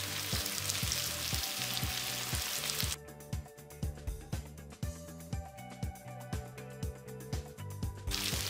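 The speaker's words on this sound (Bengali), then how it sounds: "এবার সবকিছু আবারও 1 মিনিট সময় নিয়ে ভেজে নিব" Raw banana frying with ground spices over a medium flame, a hissing sizzle overlaid by a steady rhythmic series of regular thumping pulses, the hiss dropping away for a stretch before returning at the end.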